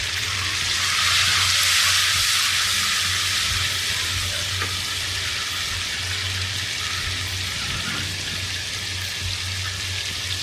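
Masala sizzling and frying in a pan after tomatoes and a little water are added to golden-browned onions for Pakistani dal gosht, a steady close hiss running throughout with no talking.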